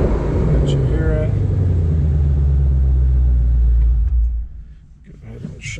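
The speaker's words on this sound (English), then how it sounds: "so I don't want to rev a cold engine too much" A cold 2022 Ford Mustang Shelby GT500 with the Carbon Fiber Track Pack, its supercharged V8 rumbling at a loud, steady idle close by before it is switched off and the sound cuts out near the end.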